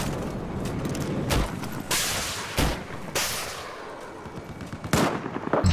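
Gunfire in Battlefield 4, loud bursts of shots and booming blasts at irregular intervals over a constant rumbling battle background.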